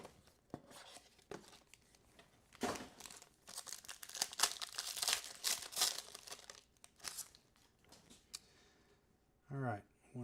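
Crinkling and tearing of stubborn plastic wrap being peeled off a 2025 Topps Midnight UFC trading card box, close and intermittent in short bursts, with a voice talking briefly near the end.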